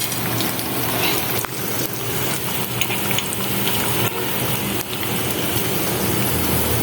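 Food frying in hot oil in a wok (kadai), a dense steady crackling sizzle that stays loud and continuous from start to finish with no talking.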